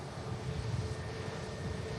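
A steady, broadband engine roar from an airliner taking off at Manchester Airport, sustained and moderately distant without a break, its low rumble holding level throughout and no voices over it.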